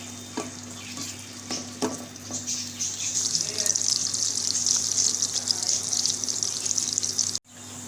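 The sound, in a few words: onions frying in oil in a kadhai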